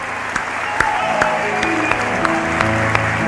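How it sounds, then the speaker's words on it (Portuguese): An audience claps steadily at a church gathering, a dense, continuous patter of applause with a few sharper individual claps, while voices carry on underneath. "Vamos aplaudir a Deus pela nossa primeira dama?"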